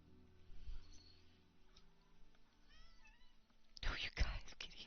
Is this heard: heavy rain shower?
no